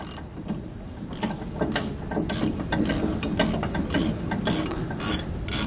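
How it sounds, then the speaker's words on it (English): A ratchet with a 22mm socket tightens leaf spring bolts on a 2013 Dutchmen trailer during a suspension kit install, giving rapid repeated clicking strokes in a steady rhythm, close and continuous. "We'll be using our 22mm socket, just like we did to remove them, to re-secure them."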